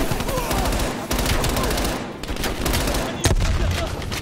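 Loud, close weapon fire in Call of Duty Cold War, with a shotgun in hand: heavy booming blasts and rapid bursts follow one another with short gaps, while a voice speaks faintly underneath.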